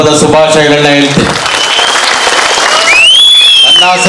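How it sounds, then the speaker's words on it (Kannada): A crowd at a Kannada film event claps loudly for a birthday wish, with dense, sustained applause and a bright whistle rising through it, following a brief stretch of talk. "ನಿಮ್ಮೆಲ್ಲರ ಜೋರು ಚಪ್ಪಾಳೆ ಮೂಲಕ ಅವರಿಗೆ ಹುಟ್ಟುಹಬ್ಬದ ಶುಭಾಶಯಗಳನ್ನ ಹೇಳ್ತೀನಿ"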